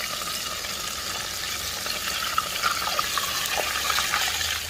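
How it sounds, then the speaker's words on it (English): Steady crackling sizzle of room-temperature steak frying in hot oil, a continuous bright hiss with small pops, no voices. "it's not really dropping my oil that much, so they're frying faster"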